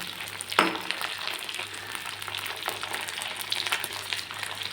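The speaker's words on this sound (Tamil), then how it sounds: "வச்சுருக்க கத்திரிக்காயெல்லாம் அதில் போட்டு நல்லா வதக்கி விடுங்க. நல்லா ஃப்ரை ஆகணும்." Eggplant frying in plenty of oil in a pan for a Tamil eggplant curry, a steady close sizzle and crackle with a few louder spits, no talking.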